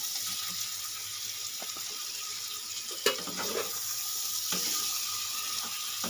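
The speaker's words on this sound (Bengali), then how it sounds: "পটলগুলো দিয়ে এক থেকে দেড় মিনিট ভালো করে কষিয়ে নিয়েছি" Pointed gourd pieces sauté in a pan with a continuous soft hiss, broken by a few faint scrapes and one sharp clack partway through, with no talk.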